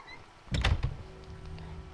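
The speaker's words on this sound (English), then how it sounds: "I went this way and opened the door" A door in a video game opens with a single soft thunk followed by a brief low rumble, close and isolated against quiet background.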